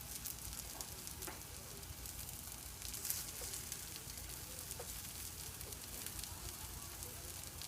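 Alkaline veggie fritters frying in a pan give off a steady, even sizzle, faint and continuous throughout, with light crackles and pops and no talk.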